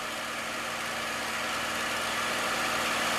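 Steady, loud drone of a P-51 Mustang's piston engine cruising in level flight at about 9,000 feet after a throttle reset, a continuous even roar with low harmonic hum throughout.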